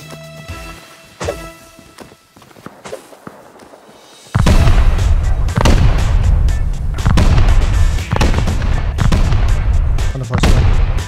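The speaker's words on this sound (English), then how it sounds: "I'm gonna throw all the satchels I have onto this wall and then we'll just rocket the rest" In the game Rust, satchel charges and rockets blast a wall. A few faint thuds are followed by an abrupt run of loud, close explosions and rumbling booms that keep coming one after another.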